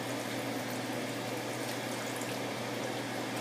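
A rice mixture with chicken stock in a pan coming up to a boil, heard as a steady close bubbling and hissing that stays even throughout with no talk.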